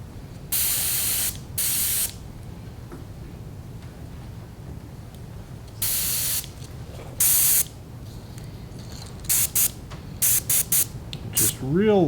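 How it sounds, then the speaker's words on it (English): Paint sprayer misting color shift paint onto the belly of a crappie lure at turned-down pressure, short hissing bursts repeating at irregular intervals, a few close together near the end, over a low background hum. "Just real lightly going to spray the bottom side of the belly."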